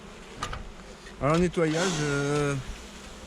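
Honey bees buzzing around an opened hive during a beekeeping inspection, a faint scattered hum under someone speaking French close by.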